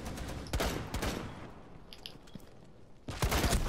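Video game gunfire comes as several sharp bursts of shots, loud at the start and again near the end, with a quieter stretch between them.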